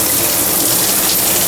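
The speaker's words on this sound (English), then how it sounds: "There's some calcium buildup on the shower head, but the pressure seems nice." Water runs steadily from a slightly worn, calcium-crusted shower head with good pressure in a Motel 6 bathroom, a loud, continuous close-up hiss and spray.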